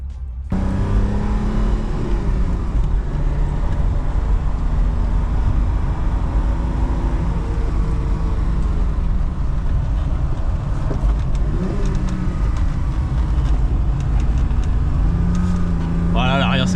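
BMW E12 saloon on the move, a loud steady engine drone and road rumble filling the cabin throughout, with the pitch rising slightly under throttle and a voice talking briefly near the end.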